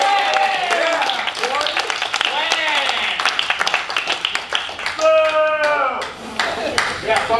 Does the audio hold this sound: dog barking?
no